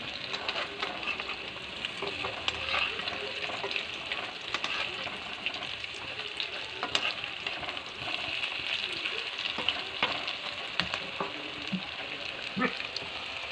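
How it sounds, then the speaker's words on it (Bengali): Prawn fritters frying in hot oil, giving a steady, dense crackling sizzle with small pops throughout, close and fairly loud, with no talk over it. "লাল লাল করে ভাজা হয়ে গেছে, এবার তুলে নিচ্ছি।"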